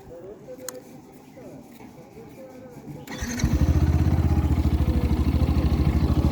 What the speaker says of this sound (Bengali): এই যে বাইকটা আমি স্টার্ট করলাম বাইকটা এখন আছে নিউট্রালে